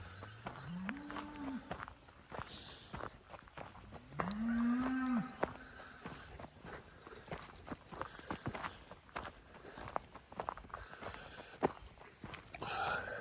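Cattle being moved moo in two long, loud calls while hooves clop and shuffle steadily throughout, with outdoor background noise.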